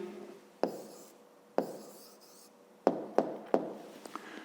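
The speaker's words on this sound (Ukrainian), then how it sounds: "Пишемо тоді відповідь." Pen writing an answer in a notebook during a fifth-grade maths exercise, several short distinct scratchy strokes with pauses between them, close and alone.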